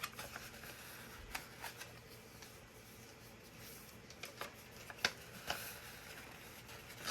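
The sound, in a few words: folding paper for an origami gift box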